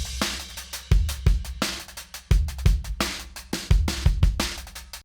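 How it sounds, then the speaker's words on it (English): Preset drum loop playing in Ableton Live, a punchy beat of thumping kicks, sharp snares and busy hi-hats in a steady repeating groove, upfront and with no talking. "this drum loop sounds like this"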